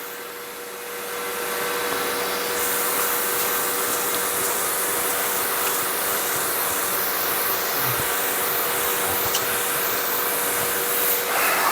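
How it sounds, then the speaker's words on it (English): A Bissell Little Green ProHeat Pet cleaner runs steadily in suction mode over a mattress, a loud continuous whooshing drone with a rising hiss from start to end, no voices. "just going over the whole mattress with just the suction to make sure I've got all this out"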